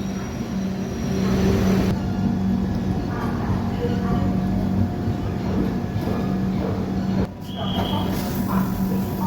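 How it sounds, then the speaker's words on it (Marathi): The Mandovi Express pulls out of Ratnagiri station on the Konkan Railway in monsoon, a steady rumble of the moving train heard from on board. "आपली ट्रेन जी आहे ती रत्नागिरी रेल्वे स्टेशनवरून निघालेली आहे"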